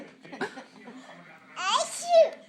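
A small child gives a quick sneeze up close with a short vocal burst after it, and voices come in between.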